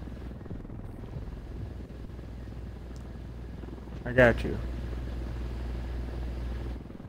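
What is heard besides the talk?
helicopter flying overhead in a video game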